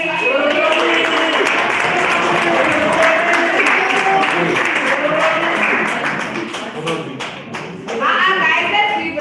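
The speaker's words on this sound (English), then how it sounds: "So let's please give a round of applause to Robin." An audience gives a round of applause, a dense sustained clapping mixed with cheering and voices that dips briefly before picking up again near the end.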